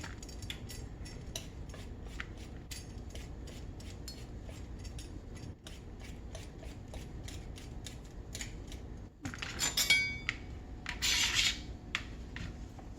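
A vegetable for salad is peeled in a home kitchen with rapid, repeated scraping strokes, close and fairly quiet, growing briefly louder near the end.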